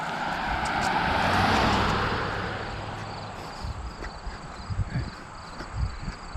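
Cars pass along a residential road during a walk, one swelling to a loud whoosh before fading. Scattered footsteps and small bumps follow over a low rumble.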